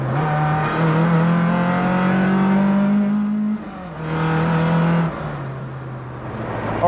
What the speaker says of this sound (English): I'm going to jump in my other old banger Ford Escort and make my way home